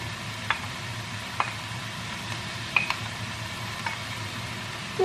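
Orange and red peppers sizzling in a mushroom sauté pan, a low steady frying hiss with a few light stirring clicks and taps spread through.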